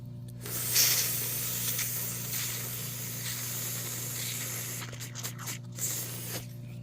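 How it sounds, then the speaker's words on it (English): San Pellegrino sparkling natural mineral water fizzes in a steady, soft hiss of bubbles close by, with a few brief louder crackles near the start and later on, and no voices. "As I open it more, you can see as I open it, the fizz is just going crazier and crazier."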